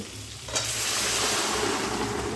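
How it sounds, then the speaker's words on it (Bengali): Pre-boiled dal poured into chicken frying in a pan over a raised gas flame, a sudden splash followed by a loud, steady hiss and sizzle that fills the rest of the moment. "এবারে গ্যাসের ফ্লেমটা বাড়িয়ে দিয়ে এর মধ্যে দিয়ে দেব আগে থেকে সেদ্ধ করে রাখা সেই ডাল।"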